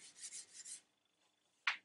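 A Scotch-Brite pad scrubbing varnish off a wooden gun stock, several quick rasping rubbing strokes in a row, then a pause and one sharp, brief scrape, close and fairly quiet.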